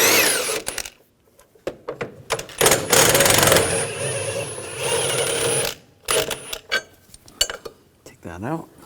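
A ratchet with a 15mm socket removes bolts on a 2007-2013 BMW X5 3.0L inline-six during intake gasket work, producing bursts of quick metallic clicking and clattering that start and stop, with brief pauses between.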